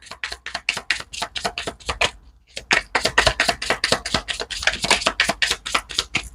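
A deck of tarot cards riffled and shuffled by hand up close, rapid crisp bursts of flicking in a steady rhythm, a brief pause, then another fast run of shuffling, with no talking.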